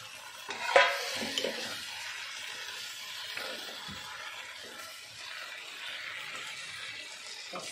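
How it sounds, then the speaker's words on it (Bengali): A sharp splash and crackle as amudi fish drops into hot oil with a spice mix, then a steady hiss of frying with occasional stirring scrapes. "এবার আমি এই মাছটা ঢেলে দিলাম"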